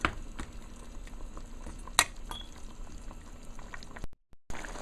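Duck curry simmering at a rolling boil in a pot, a steady close bubbling hiss with a few sharp clinks of utensil against metal, ending in a brief dropout.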